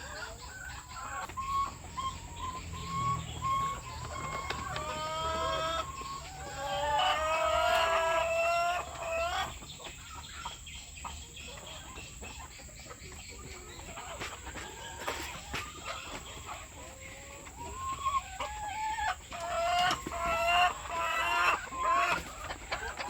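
Laying hens cluck steadily throughout, with overlapping calls and a few louder squawks, close by against a faint background hum under overcast skies.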